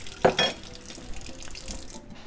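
Cool water pours from a tap into a 1/4 measuring cup for cheesemaking, a short splashing burst followed by a lighter steady trickle that ends abruptly, close and moderately loud.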